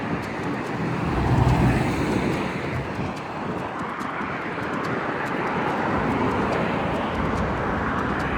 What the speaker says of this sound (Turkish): Arabalar akın akın geliyor.